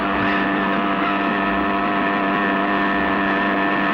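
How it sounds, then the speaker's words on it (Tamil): A motorbike being ridden in a film scene gives a loud, steady engine drone that holds an even pitch throughout, with no voices over it. "என்ன ஸ்டைலா பைக் ஓட்டுறாரு"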